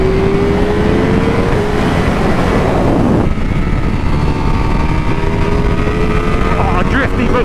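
Ducati Panigale V4S ridden flat-out around Silverstone circuit, a loud sustained high-revving engine roar buried in heavy wind rush, with a sudden pitch change midway as the rider shifts.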